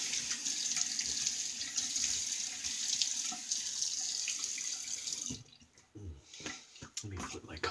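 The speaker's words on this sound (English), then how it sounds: "Let's wet the face and get the lathering." Tap water runs steadily into a sink as a face is wetted before shaving, a broad hiss that stops abruptly partway through, followed by quieter splashing and handling sounds.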